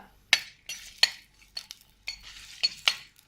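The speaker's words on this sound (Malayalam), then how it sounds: "ഇനി ഇതിലേക്ക് ഇഞ്ചി വെളുത്തുള്ളി ഇട്ടൊന്ന് വഴറ്റുക." Ginger and garlic sautéed in hot oil for a restaurant-style fish curry, heard as a series of sharp spoon-against-pan knocks and scrapes over a faint sizzle, close and intermittent with no talk.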